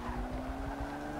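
Tyres skid under late braking on a BMW V12 LMR Le Mans prototype in Forza Motorsport 6, a close, steady squeal over the engine's droning hum.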